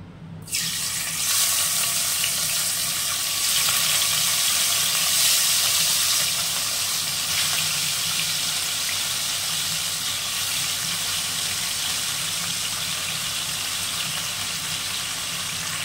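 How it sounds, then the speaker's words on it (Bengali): A loud, steady sizzling hiss starts abruptly and continues unbroken as amudi fish fries in hot mustard oil in a kadai, close up. "কড়াতে সর্ষের তেল দিয়েছি। এবার আমুদি মাছটা ভেজে নেব।"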